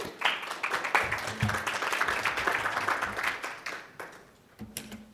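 Audience applauding conference panel speakers, a crowd of hands clapping in a dense burst that swells, then thins and tapers toward the end, with faint voices underneath.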